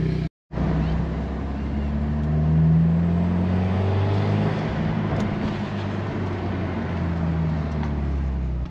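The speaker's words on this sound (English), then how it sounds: "I would say that's the same amount of misfires as before" Mitsubishi Evo X engine idling steadily up close with a bad misfire, a continuous low rumble with uneven pulsing and faint harmonic tones, briefly cut to silence near the start, with no talk over it.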